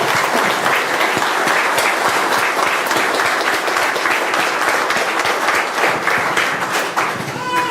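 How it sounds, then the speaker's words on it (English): Dense, sustained crowd applause from an outdoor audience at a state park dedication ceremony, steady and fairly loud throughout with no pauses. "So let's give the landowners a round of applause."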